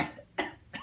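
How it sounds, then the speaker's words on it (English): Three short coughs from an adult man, close and fairly loud, spaced evenly over under a second. "Talking a lot today. Cough."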